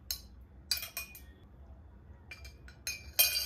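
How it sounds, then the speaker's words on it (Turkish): Glass drinking straws clinking against each other, a few bright, brief tinkling taps in scattered clusters, close and delicate over quiet background. "Şöyle cam pipetlerden aldım 6 tane."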